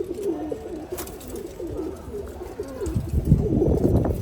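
Low, rolling coos of several pigeons, including white pigeons, close by in a home loft, overlapping and continuous, with soft rustling in the background.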